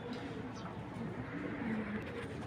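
A Koopman-line racing pigeon coos softly while being handled, low murmuring coos repeating across the moment, fairly quiet and close, with faint background noise.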